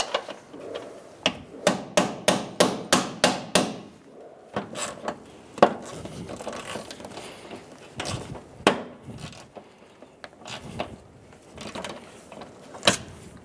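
Sharp metal hammer blows drive a rounded-off socket onto a bolt head on a 2007-2011 Toyota Camry front bumper bracket: a quick run of about seven strikes, then scattered single knocks and clanks, close and loud.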